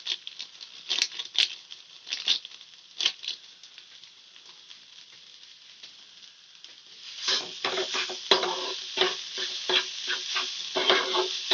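Spatula stirring spices such as cumin powder and chaat masala into a street-food snack in a pan, a series of scraping, pattering strokes that grows denser and louder in the second half.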